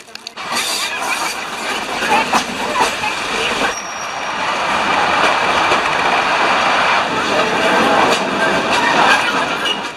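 Train rolling on rails in Madagascar, a loud continuous rumble and rattle of wheels and carriages that swells and holds steady, heard up close from on board.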